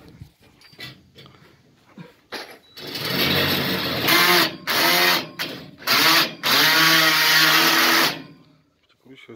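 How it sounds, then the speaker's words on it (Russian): Power drill driving self-tapping screws into a pavilion frame, several loud whirring bursts with short pauses between them, close to the microphone, and a voice briefly beforehand. "Прикручивается с другой стороны."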